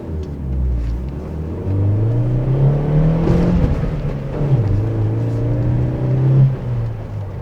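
A Chevrolet S10 pickup truck with a 2.4 Flex engine hums and revs through gear changes as it drives in the city, with pitch climbing and dropping, steady and fairly close with no talking.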